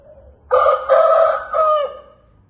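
A rooster crows loudly and close by, one long call in several drawn-out stretches over a quiet background.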